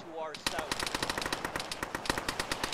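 Rapid machine-gun fire from a vehicle in a military shooter game, a fast steady burst of loud shots running the whole time, with a voice speaking briefly at the start.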